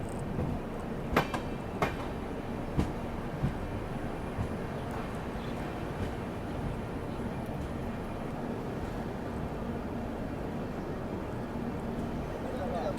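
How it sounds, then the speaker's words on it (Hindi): The Rajdhani Express pulls into North Lakhimpur railway station in Assam with a dense, steady rumble. Occasional sharp metallic clanks rise from inside the carriage, and a voice is partly buried in the noise. "तो यहाँ पे अपना अराइवल हो रहा है नॉर्थ लखीमपुर रेलवे स्टेशन में"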